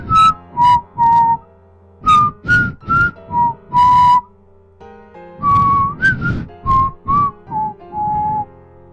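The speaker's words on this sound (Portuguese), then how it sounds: "Exatamente às 3h03 ouvimos o assobiador." A clear, melodic whistled tune at 3:03 am on a street, close and loud, in two phrases of short and sustained notes separated by a brief pause, with no talking.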